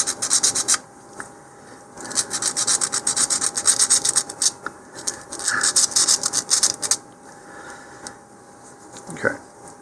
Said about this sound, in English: so we'll go ahead and roughen that area up a little bit too